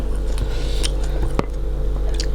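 Crispy pork rinds bitten and chewed up close, with repeated sharp crunches and crackles over a steady background hum, loud and near.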